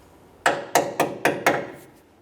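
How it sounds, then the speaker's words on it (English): Five sharp metallic hammer taps on a Toyota Tacoma parking brake cable clip, evenly spaced about a quarter second apart, close and crisp, with nothing else sounding. "you might need to tap it a little bit with a hammer"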